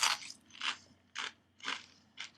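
Crunchy fajita Takis rolled tortilla chips bitten and chewed up close, five sharp crisp crunches spaced at a steady rhythm with quiet pauses between.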